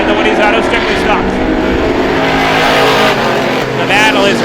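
Strictly Stock class stock cars race at Star Speedway, several engines roaring loud and steady together with rising and falling pitch, while a race announcer talks over them throughout.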